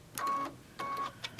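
An embroidery machine stitches a mug wrap held in the hoop, giving short close bursts of rapid mechanical buzzing separated by brief pauses.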